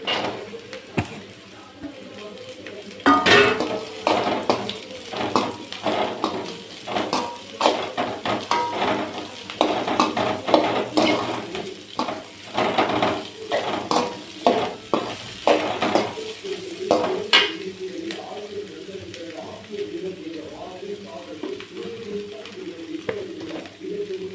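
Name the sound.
bitter gourd frying in a pan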